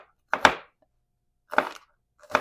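Vegetables are chopped with a knife on a board in three separate close, sharp chops spaced about a second apart, with silence between them.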